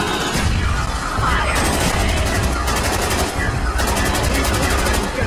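Rapid automatic FAMAS rifle fire in a zombies video game, loud dense bursts of shots with short gaps between them, accompanied by explosive booms and background game noise.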